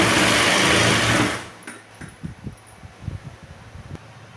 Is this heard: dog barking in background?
no